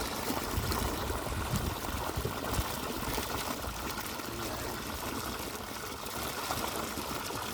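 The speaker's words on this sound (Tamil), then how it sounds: "ரெண்டரை இன்ச்சு பைப்பில் தண்ணி ஃபுல்லாக ஊற்றிக்கிட்டு இருக்கு" Water gushes steadily from a 2.5-inch pipe fed by a 1500W BLDC motor pump drawing from a 300-foot bore in Erode district, a continuous loud rushing wash with someone speaking over it.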